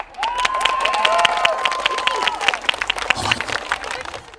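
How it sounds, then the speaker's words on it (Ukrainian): A crowd claps in a dense burst of applause with some cheering at a university performance of traditional Ukrainian Easter songs, fading out after a few seconds. "Ваші оплески!"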